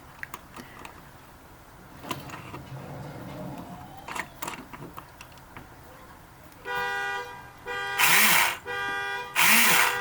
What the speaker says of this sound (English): one of the kids set off the car alarm.